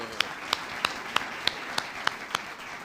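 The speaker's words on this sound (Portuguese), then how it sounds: "Cadê a salva de palmas ao Senhor?" Applause during a church Bible study: about eight sharp, evenly spaced claps in a steady beat, fairly close and clear over a quiet room.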